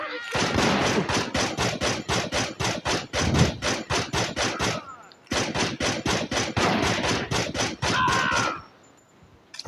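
Rapid automatic gunfire from the Gangstar Vegas video game rings out in two long, loud, evenly spaced bursts with a brief break between them, then fades to quiet.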